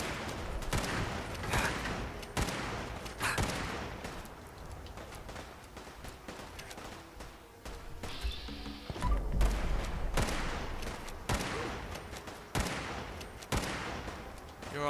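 Gunfire aimed at power armor in Fallout 4, with rapid bursts of close, loud shots in repeated volleys and short gaps between them.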